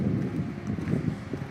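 Wind gusts blow across the microphone during an outdoor hike through a notch with trees whipping, giving a low, fluttering rumble that is steady and fairly loud, with no voices.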